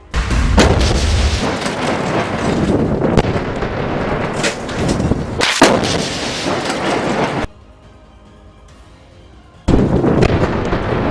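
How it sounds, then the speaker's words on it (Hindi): A rocket launcher fired at a building during fighting in Gaza, heard as loud booming blasts and rumbling roars in bursts, with a sudden drop to near silence before the noise returns. "इसके बाद अल कासिम के लड़ाके दूर एक बिल्डिंग में आईडीएफ के जवानों पर रॉकेट से हमला कर देते हैं"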